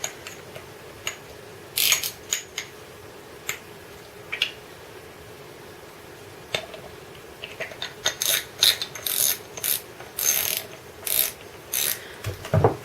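Small metallic clicks and ratcheting from the parts of a fixed-spool spinning fishing reel as they are tightened during servicing, scattered taps that grow into busier runs of close, crisp clicking with no voices.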